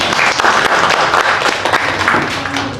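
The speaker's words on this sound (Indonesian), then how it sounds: "tepuk tangan untuk semua kita" Applause from an audience at an MLM business presentation in Indonesia, a dense, steady wash of many hands clapping at once, loud and close throughout.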